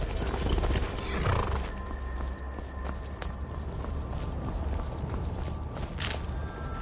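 Horse hooves clip-clop at a steady walking rhythm in Skyrim, joined by a loud whinny, with a faint crackle of background ambience, moderately close and with no voices.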